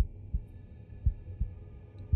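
Slow, muffled heartbeat thumps in the horror game Unworthy, low and deep, about four beats in two seconds over a faint hum, with no talking.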